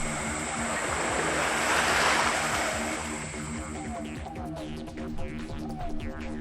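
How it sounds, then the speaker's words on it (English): Ocean waves washing onto an Australian beach beside a camping spot, a broad hissing surge that swells and then recedes under a low steady rumble, heard from nearby with faint chirps near the end. "If you listen, you can even hear the ocean waves crashing on the beach."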